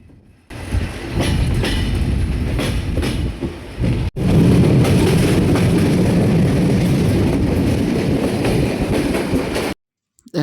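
A moving passenger train rumbles steadily on the Khulna to Santahar route in Bangladesh, heard from inside the carriage as a loud continuous roar with clattering wheels, briefly dipping once before cutting off near the end.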